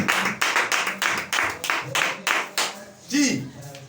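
A church congregation claps in rhythm to acclaim the Lord, with steady, evenly spaced hand claps close by and a voice briefly calling out near the end.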